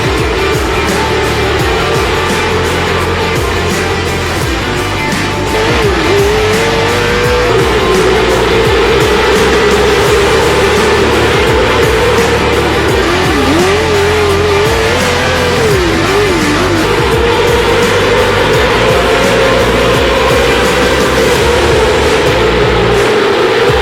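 Dirt-track race cars roar through an A-class main event at the Tulsa Shootout, a loud continuous engine drone with rising and falling revs as cars pass and accelerate, no talk over it.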